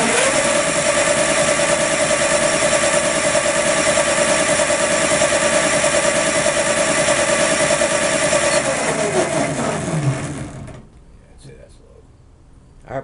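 A 60V electric racing go-kart motor running steadily in low gear, a loud close whine with a constant tone that winds down and stops near the end, leaving near silence.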